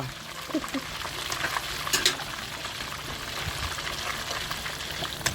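Continuous sizzling and crackling of fish frying in a small pan over a charcoal stove, a steady bubbling hiss with occasional pops, close by and without speech.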